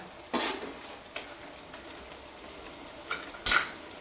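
A spoon scrapes and clinks in a pan of grated ash gourd frying for halwa, with a few sharp knocks over a low constant sizzle, close and alone.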